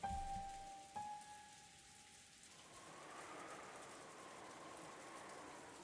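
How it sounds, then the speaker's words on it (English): Rain falls steadily and softly into a dining hall in Umineko no Naku Koro ni, a faint wash of patter following a brief high tone at the start. "you couldn't ignore the sound of the rain sneaking into the dining hall"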